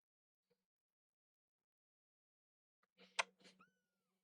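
A cat meows a few times in quick succession, close by, after a long quiet stretch with one faint tiny sound early on.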